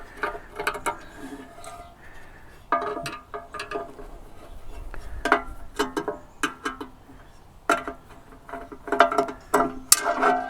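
A number 2 Phillips screwdriver backs screws out of plastic console trim pieces inside a 2020 Chevy Silverado cab, giving close, irregular bursts of ratcheting clicks and light plastic rattles with short pauses between.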